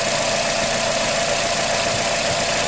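A 2006 Nissan Sylphy engine idles with a steady, even hum and no obvious misfire, heard close and continuous throughout with no talking.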